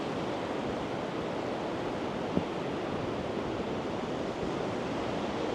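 Sea surf washing onto a Northumberland beach during cod match fishing: a steady, close, broadband rush of breaking waves with no talking.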